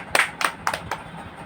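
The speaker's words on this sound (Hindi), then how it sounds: "जोर से एक ताली मारो यीशु के लिए।" A church congregation claps for Jesus, four sharp hand claps in an irregular row, faint and brief with a little room echo and no voices.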